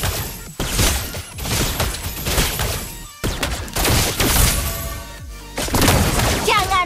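Rifle fire in the Mobile Legends video game comes as loud, dense bursts of shots and impacts layered with other busy game effects, repeating in rapid clusters.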